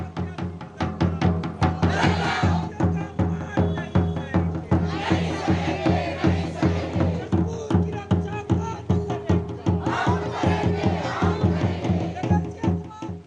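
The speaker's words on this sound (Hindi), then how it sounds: "भाजपा कुशाभाऊ ठाकरे परिसर के सामने आप ये जो भीड़ देख रहे हैं" Nagada drums pounding a fast, steady beat amid a large crowd of tribal protesters outside a BJP office, loud and close, with crowd shouts swelling over the drumming in waves.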